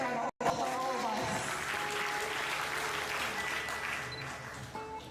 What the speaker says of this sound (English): Let's give a big round of applause for all of us.